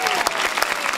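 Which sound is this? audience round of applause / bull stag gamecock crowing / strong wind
audience round of applause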